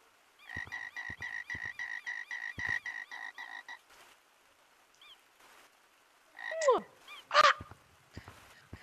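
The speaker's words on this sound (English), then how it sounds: "Okay, frog." A frog croaking sound effect opens with a regular run of about a dozen evenly spaced croaks and then gives a few louder, more drawn-out calls near the end, heard alone with no talk.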